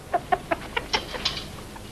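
A rooster clucks in a rapid series of short, close, fairly loud calls, about eight bursts in under two seconds, fading toward the end with no talking over them.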